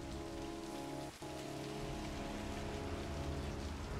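Steady rain falling in the video game Heavy Rain, a dense continuous hiss of drops on surfaces with a low background hum, evenly loud throughout and no talking.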